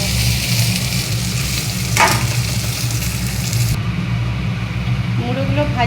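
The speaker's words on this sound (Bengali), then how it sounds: "মুড়োগুলো ভাজা হয়ে গেছে" Hilsa fish heads frying in a pan give off a continuous crackling sizzle, with a brief clatter partway through and a voice starting to talk near the end.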